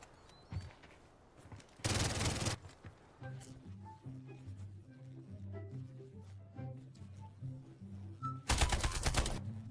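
Gunfire in the Delta Force battle royale game, including a G3 rifle: two loud bursts of rapid shots, one near the start and one near the end, separated by quieter in-game clicks and tones.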